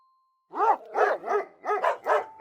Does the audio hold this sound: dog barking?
yes